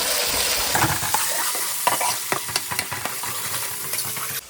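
Tomato pieces stirred and frying in a pan for goat head curry, a steady close sizzle with scraping ladle strokes and clicks scattered throughout, no talk.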